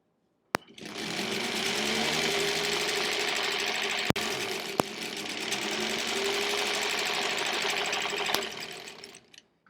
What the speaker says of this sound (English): I'll sew the rest of my pairings for row 7 before taking this off the machine.